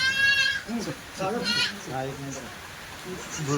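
Kathiyawadi goats and young kids bleat in a truck, several quick, high wavering calls that overlap in short bursts, close by and fairly loud.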